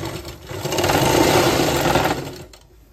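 A sewing machine stitches a border strip onto a single-bed quilt made from old nine-yard saris, a close, steady whir lasting about two seconds between brief pauses.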